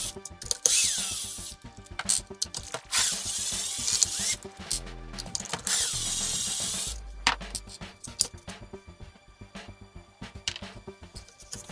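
Screws being removed from the top of a vehicle chassis during a chassis swap, heard as bursts of power-tool whirring and ratcheting with clicks and clunks of tools in between, fairly close and with no talking.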